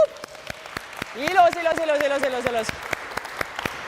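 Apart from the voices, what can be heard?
workout class participants applauding themselves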